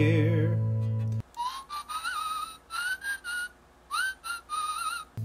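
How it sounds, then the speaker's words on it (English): A zookeeper's whistling in a children's sing-along song comes as a string of short, clear melodic whistle phrases with brief gaps, after a held musical chord at the start. "I hear a zookeeper whistling in my ear."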